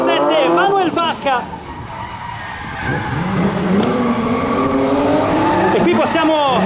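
BMW M3 race car drifting on a track at a Rome drift racing event, engine revving with long tire skids and squeals, loud and close, while a commentator talks over it throughout.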